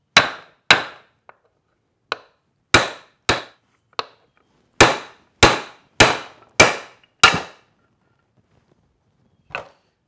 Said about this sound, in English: So you just put that socket on there and give it a couple of whacks